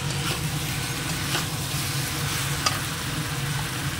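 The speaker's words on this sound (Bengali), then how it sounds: "খুব সুন্দর লাল করে করে সব ভাজা হয়েছে এই মাংসগুলো" Chunks of meat frying in a pan until browned, a steady close sizzle with a low continuous hum beneath and a few faint stirring clicks, no voices.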